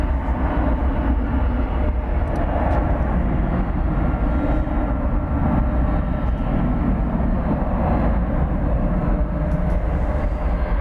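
Boeing 737-800 airliner passing at night at DFW Airport, a loud, steady broadband jet roar with deep rumble holding throughout without a break.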